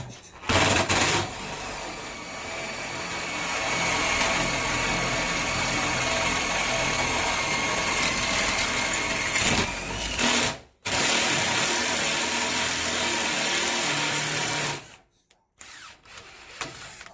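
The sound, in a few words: DeWalt impact gun driving fasteners into trailer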